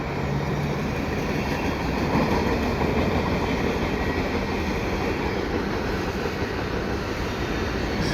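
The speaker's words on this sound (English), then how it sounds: "And there's another train coming." A Canadian Pacific Kansas City mixed freight train rolls steadily past at St John's Blvd in fall, its wagons producing a loud continuous rumble and rhythmic wheel clatter close by for the whole stretch, with no voices.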